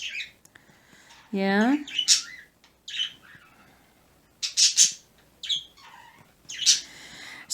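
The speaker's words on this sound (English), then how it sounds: "the birds have finally decided to wake up" Birds waking up early call from nearby with scattered chirps, a rising squawk and short tweets in intermittent bursts, while a person speaks briefly between them.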